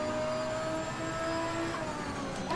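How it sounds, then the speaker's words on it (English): An airplane coming in to land, a steady distant jet engine drone with whining tonal hums, moderately faint and continuous without talk. "And another airplane goes to landing."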